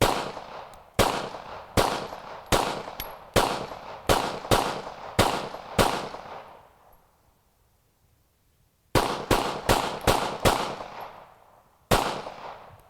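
Hudson H9 pistol shots ring out in quick strings of sharp, loud cracks, about eight in a row, a pause of near silence, then another rapid burst and one final shot.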